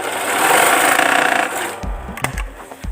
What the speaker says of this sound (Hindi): मैं आपको अब इसकी सिलाई चेक करके दिखाता हूँ कि इसमें कैसी सिलाई आ रही है